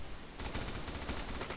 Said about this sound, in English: Oh, gunfire.